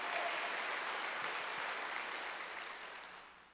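A congregation claps during a Wednesday church service, a short, even wash of applause heard from a distance that slowly fades.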